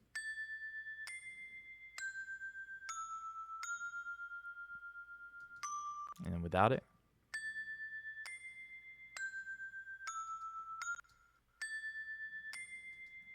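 Bright, ringing bell notes play in a steady repeating pattern with a shimmering edge. They pause briefly for a short spoken remark, then resume.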